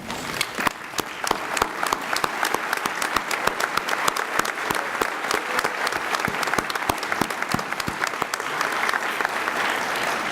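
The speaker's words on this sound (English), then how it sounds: "we'll give you a round of applause too" Audience at the 2017 UMass Law commencement ceremony applauding graduating alumni, a dense, steady wash of many hands clapping that holds strong and even throughout.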